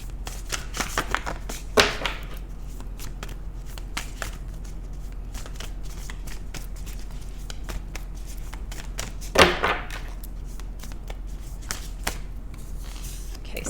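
Tarot cards are shuffled steadily for about fourteen seconds during a reading, a close, continuous riffling and sliding with two sharper riffles standing out, and no voices.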